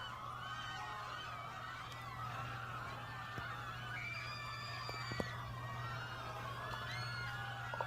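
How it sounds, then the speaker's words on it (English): Generic crowd panic sound effect: many overlapping distant screams and shouts forming a continuous frantic wash, steady in level with a low hum underneath. "Generic crowd panic sound effect."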